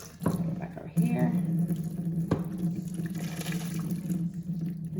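Cooked chickpeas are rinsed under cooler tap water, a steady running stream with a few hollow knocks as the bowl or pot shifts.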